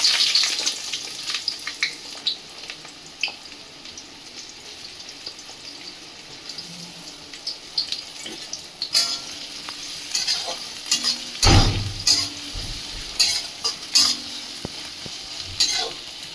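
Dried red chillies and onion fry in a pan with a loud, close sizzle, broken by repeated scraping stirs and metallic clinks of a spatula against the pan, growing busier toward the end.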